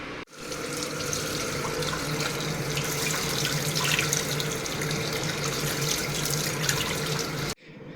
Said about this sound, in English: I have 2 cups of rice, and I'm gonna rinse these just to get the starch off.